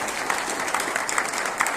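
Applause from an audience at a union convention, a steady, dense wash of clapping that runs unbroken throughout at moderate loudness.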